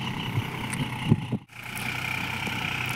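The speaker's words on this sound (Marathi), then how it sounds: "ट्रॅक्टर आले खालच्या शेतात." A tractor engine idles and rumbles in a lower farm field before ploughing, a steady mid-low drone with a brief dip and a couple of clunks, no speech.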